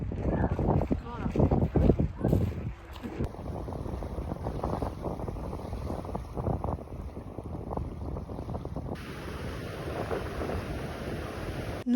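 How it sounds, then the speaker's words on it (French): Wind gusts blow across an open outdoor spot in Alberta, a low rumbling buffet that pulses unevenly throughout, with a person talking over it near the start. "Voilà déjà écoutez le vent."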